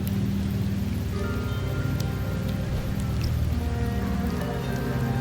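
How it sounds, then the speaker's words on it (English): Steady rain falling across an outdoor scene in the video game Wuthering Waves, a continuous soft hiss with scattered drops, loud and unbroken under a low musical drone, with no talking. "The rains in Septimont never seem eager to leave this season."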